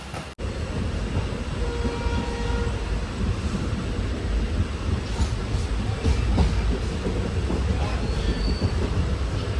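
A Dooars Queen passenger train pulls out of Binnaguri station, a steady low rumble of rolling wagons with faint clatter and occasional squeals building slightly over time, close and continuous.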